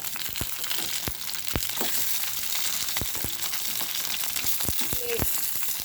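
Tomato and mint cook in a small amount of oil over low heat with steady, loud sizzling, broken by sharp scraping knocks of the spoon as the pan is stirred.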